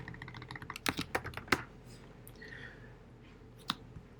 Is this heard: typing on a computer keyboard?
yes